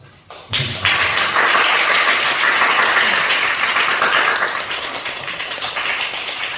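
A church congregation applauds to welcome the pastor as he comes forward to preach, steady broad clapping that swells quickly and holds, fading slightly toward the end.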